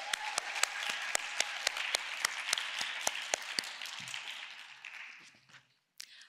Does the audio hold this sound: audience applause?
yes